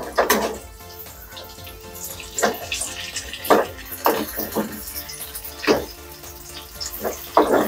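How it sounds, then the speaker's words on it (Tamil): Anchovies fry in oil over a low flame for a pepper fry, giving a steady close sizzle and crackle with periodic louder bursts of spitting; no talking. "சிறு தீயிலே பொரியட்டும்."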